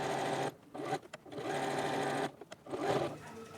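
A sewing machine stitches a seam on a tote bag, a close, loud mechanical whirring run that pauses briefly twice and then restarts, with no talking over it.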